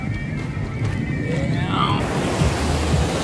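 Ocean waves wash onto Chaweng beach on Koh Samui, a continuous broad surf hiss with wind rumble against the microphone, rising slightly in the second half.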